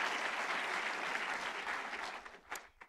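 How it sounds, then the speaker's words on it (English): A room full of people clapping at a leadership organization's live event, a sustained even wash of applause that thins out and tapers toward the end with a few last scattered claps. "let's give another round of applause"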